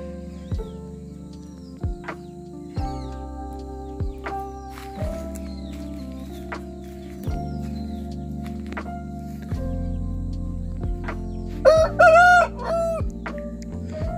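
A Kaki-breed fighting rooster gives a single loud, close crow near the end, set against a steady tonal background with a few sharp knocks earlier.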